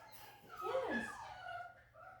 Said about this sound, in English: if you hear the dogs in the background, it's because they want to work